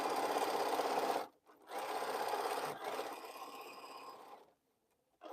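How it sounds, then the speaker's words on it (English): A sewing machine stitches the final row of a quilt in steady close whirring runs, stopping briefly twice and then falling quiet near the end. "Got to sew the final row, and then we got to check for partial rows"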